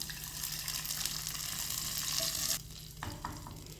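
Kuzhambu gravy mixture is poured into a pan of frying onions, setting off a loud, continuous sizzling hiss that cuts off abruptly partway through. Quieter stirring and bubbling follow, with no voices.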